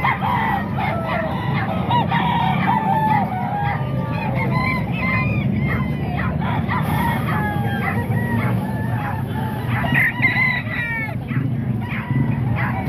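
Gamecocks and chickens at a poultry sale in Calumpit, with roosters crowing repeatedly and hens clucking in a busy, overlapping chorus, several birds close by, over a low background murmur.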